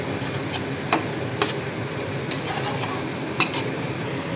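A spice paste being stirred and fried in a pan for a Bengali hilsa and eggplant curry, with steady sizzling and scattered scraping clinks of a utensil against the metal, close up and without talk.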